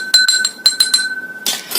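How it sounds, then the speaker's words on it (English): Clinking of a glass being shaken with soil and water inside, a quick series of bright taps and rattles against the glass, close and clear with no talk. "I am going to take this in a glass, going to add water to it and going to shake it."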